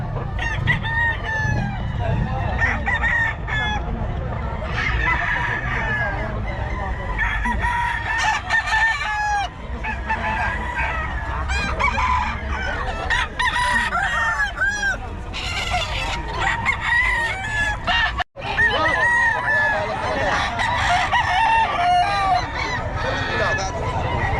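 Roosters crow repeatedly over a dense chorus of clucking chickens, loud and continuous, with some faint talk in the background.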